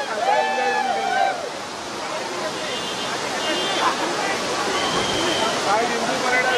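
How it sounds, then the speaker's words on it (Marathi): The main waterfall at Amboli roars as a steady, broad rush of falling water, with crowds of tourists chattering and voices rising over it nearby. "हा जो मुख्य धबधबा जो आहे"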